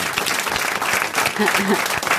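Brief burst of steady studio audience applause on a radio panel show, dense and close, with voices talking over the clapping.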